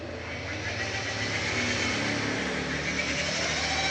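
A rotary polishing machine spins a pad across a BMW's paintwork with polishing liquid, giving a steady, loud, continuous motor whine and broadband hiss that hold throughout with no pauses.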